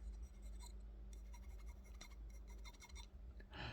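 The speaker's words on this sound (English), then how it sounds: "Look at the wicked stepped milling on this blade. You can hear it." Faint rasping and scratching as something rubs across the stepped milling on a TKell fixed-blade knife, in quiet irregular strokes with a short brighter scrape at the end.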